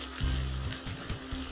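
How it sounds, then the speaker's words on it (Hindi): Finely chopped onion hitting hot oil that already holds browned garlic and ginger for a dhaba-style chana dal palak, giving a soft, steady sizzle under a low, continuous hum. "अब इसमें हमने बारीक कटा हुआ प्याज डाल देंगे।"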